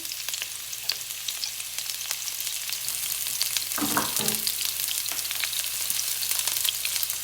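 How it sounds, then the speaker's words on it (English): Onion sizzles and fries in a pan of hot oil for Jamaican brown stew fish, a steady crackling hiss throughout with a brief louder burst of stirring or added food midway; no talking. "I'm gonna go ahead and put my onion in."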